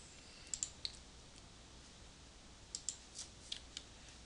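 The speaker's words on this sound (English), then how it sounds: "And we're going to type" Faint, sparse clicks of keys being typed on a computer keyboard in a quiet room, a few isolated taps in two small clusters.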